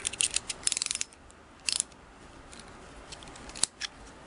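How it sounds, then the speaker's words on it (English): A ratchet tool works on the presser bar of a Singer 353 Genie sewing machine, giving quick bursts of close, crisp clicking with pauses between them and a single sharp click near the end. "One more time with my ratchet."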